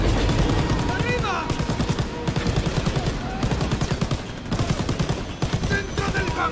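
Machine gun fire in the Call of Duty WWII game during a train battle, dense rattling bursts that repeat rapidly and loudly, with shouted voices over the shooting.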